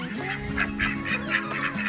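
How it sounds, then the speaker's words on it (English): Ducks at a house door give a quick run of loud, close, honking quacks, overlapping and repeating through the moment with no talk. "The ducks just knocked on the door."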